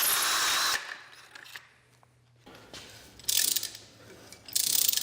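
A power drill cuts bolt holes about 1 inch deep into engine bracket bosses, its bit guided square by a sleeve; loud grinding bursts of cutting separated by a quieter stretch with a low motor hum, close by.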